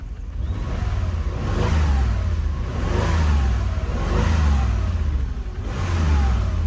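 A Mercedes 560SEC engine revs up and down in repeated swells, its rough, uneven note stumbling now and then as it misfires, the miss heard from the exhaust.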